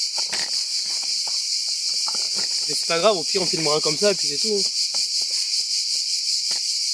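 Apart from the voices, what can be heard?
cicadas singing outdoors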